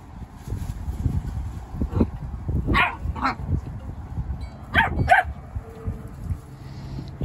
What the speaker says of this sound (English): Happy puppies.